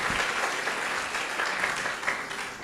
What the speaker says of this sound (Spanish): Quisiera arrancar este espacio pidiendo un aplauso para estos dos señores